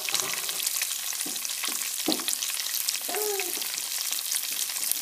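Haitian-style rice with black djon djon mushrooms sizzling steadily in a pot, a dense, even frying hiss with a few soft knocks and bubbling pops close by, no voices.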